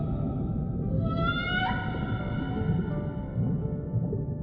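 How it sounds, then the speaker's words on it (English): A recorded whale song plays, with drawn-out rising and falling tonal calls over a rumbling low background, one long sweeping cry standing out before fading into quieter moans. "listens to whale sounds for comfort"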